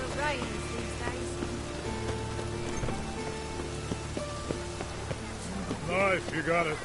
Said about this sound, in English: It only ever rains these days.